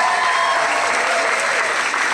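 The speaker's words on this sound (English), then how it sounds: "Round of applause." A crowd at a Pride rally bursts into sustained, dense applause, loud and close, clapping steadily for the whole stretch with no pause.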